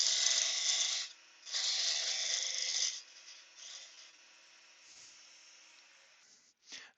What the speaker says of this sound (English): This is the Ashley's round skew. Makes a great peeling cut.